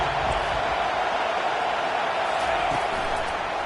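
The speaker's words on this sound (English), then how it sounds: "Listen to this crowd just shaking the girders of this place," A stadium crowd at an American football game roars in a dense, unbroken wall of cheering that holds steady and loud throughout.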